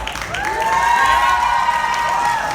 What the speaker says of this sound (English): One loud round of applause once you have it out.